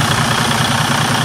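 A Freightliner Cascadia truck's DD15 diesel engine idles up close, a loud, steady, throbbing rumble with a regular low pulse and no talking.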